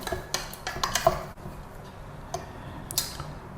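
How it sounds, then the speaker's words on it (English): Roasted peanut and chili flake stuffing mixed in a bowl for okra, with a series of sharp clinks and scrapes of a utensil against the dish, close and fairly quiet with irregular taps. "I'm making sure that the chili flakes are well mixed"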